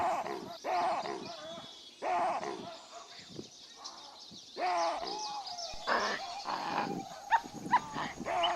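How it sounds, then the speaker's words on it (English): Several animals let out overlapping howls and growling calls in bursts, moderately loud, rising and falling without any talking. "The pack gathered around him and began to howl, loud and powerful and sacred."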